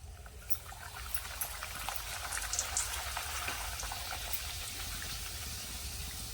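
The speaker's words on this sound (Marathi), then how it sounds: "तेलामध्ये टाकला ना की भटुरा किती छान असा फुगला जातोय" Bhatura deep-frying in hot oil: a continuous close bubbling sizzle with fine crackles, steady throughout and with no talk.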